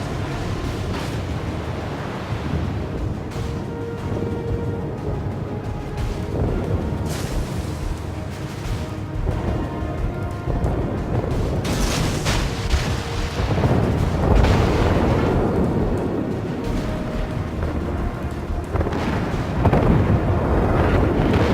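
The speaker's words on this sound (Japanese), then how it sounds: "敵戦艦撃沈。" Enemy battleship exploding and sinking in World of Warships: a long, heavy rumbling roar with booming swells and crashing bursts, loud and continuous, building toward the middle and end.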